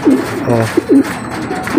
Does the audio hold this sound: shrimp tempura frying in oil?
no